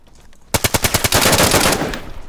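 Rapid burst of automatic gunfire in the DayZ video game, about ten sharp shots in quick rhythm followed by a sustained dense roar of firing, loud and close.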